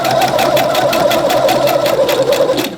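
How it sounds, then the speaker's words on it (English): A Pfaff Creative 3.0 sewing machine runs at a quick, even pace, its needle producing a loud, close rhythmic chatter of rapid stitches that continues without pause for a few seconds. "And then you literally just start sewing."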